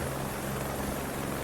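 A helicopter in Microsoft Flight Simulator 40th Anniversary Edition gives a steady, dense rotor and engine drone that stays close and constant throughout.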